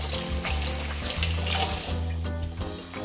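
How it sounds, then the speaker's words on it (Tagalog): Hands washed under a running kitchen tap while cooking pork belly adobo, a steady close rush of water over a low background hum, with no talk. "Hugasan ko ng kamay."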